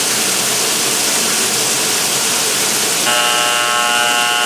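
A steady electronic pressure alarm tone from an adjusted pressure alarm switch kicks in partway through, layered pitched beeping over loud continuous machinery noise.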